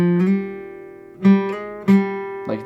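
Acoustic guitar riff from a song: sustained low notes with a few picked accents, then two strong plucks and a softer trailing phrase, close and alone with no talking.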